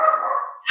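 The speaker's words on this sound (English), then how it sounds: "that's my dog chiming in the background" A dog barks in the background of a home sports-talk broadcast, a single short close bark followed by a brief sharp second yelp, with no speech.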